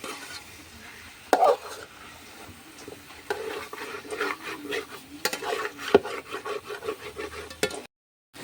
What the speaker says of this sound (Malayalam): ചിക്കനും ഉള്ളിയും അരപ്പും എല്ലാം കൂടെ ഇട്ട് നന്നായിട്ട് ഇളക്കി അരപ്പ് ആ ചിക്കനിലോട്ട് പിടിക്കണം.